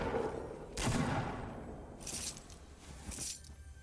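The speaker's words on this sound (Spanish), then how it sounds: "Están unos tiros por aquí." Faint bursts of Fortnite: Battle Royale video game gunfire crackle in three short volleys, distant and thin, with quiet background between them.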